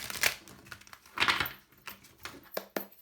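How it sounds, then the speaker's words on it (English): Tarot cards being shuffled by hand in a quiet indoor setting, a few separate bursts of soft papery riffling and snapping, close up and fairly faint, with no talking. "one last shuffle"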